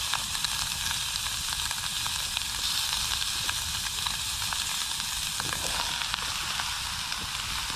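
Sausages, bacon and mushrooms sizzle steadily in a pan outdoors at a wild camp, a close, continuous frying hiss with small crackles and pops and no talk.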